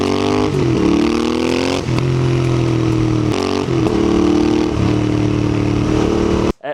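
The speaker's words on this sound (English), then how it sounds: "the high RPM blips that you get out of this exhaust is just amazing, like the pops when you're changing up high" Royal Enfield Interceptor 650 with a TEC 2-into-1 stinger exhaust, revved hard in loud repeated high-RPM blips with rising and falling pitch, ending in a sharp pop as the throttle closes.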